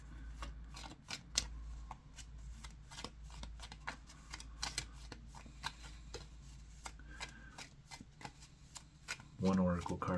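Oracle cards are shuffled by hand, a quick, close run of soft flicking and riffling slaps in a quiet room, with a brief voice near the end.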